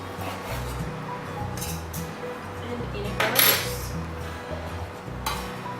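Chicken being sliced into strips for a satay salad and added to a bowl: crisp knife knocks and clinks of utensils against dishes, with one louder scrape-and-clatter in the middle, close by and with no talking.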